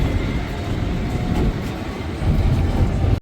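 A train rolls past nearby in Udaipur, its steady low rumble and wheel clatter filling the scene without pause and swelling slightly toward the end.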